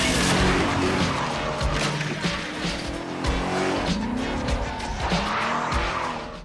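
A car tears away from a mafia hideout with loud, sustained tire squeal and a roaring, revving engine, up close and continuous throughout with no talk.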